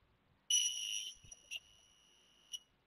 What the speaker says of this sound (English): the buzzer also created a sound